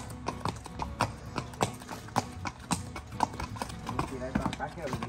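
A horse on a farm steps in place, its hooves clip-clopping in a quick, uneven rhythm of sharp knocks, close by, while people talk over it.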